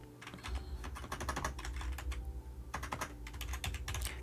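Keys clatter on a computer keyboard in quick, steady bursts of typing with one short pause partway through, close by but fairly soft.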